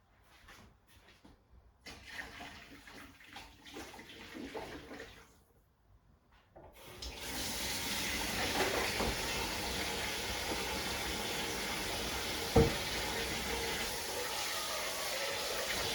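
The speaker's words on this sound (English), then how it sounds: "what I'm going to do now, guys, is get rid of this hot water from here." Hot water being poured away while cooking a chicken saag curry at home: quieter clatter first, then a sustained, loud rushing splash of water for about nine seconds with a brief knock partway through.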